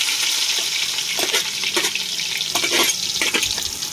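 Sliced onions frying in hot oil in a home kitchen, a continuous bright sizzle with occasional louder crackles and stirring, steady and close with no talk.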